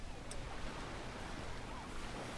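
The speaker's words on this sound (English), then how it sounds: "Lapping water, the waves." Surf on the beach at Teignmouth, Devon, makes a faint, steady wash with soft breaking noise and a little wind for a couple of seconds, and no one talks over it.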